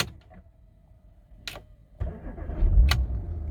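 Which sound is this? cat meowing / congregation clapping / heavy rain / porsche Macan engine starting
porsche Macan engine starting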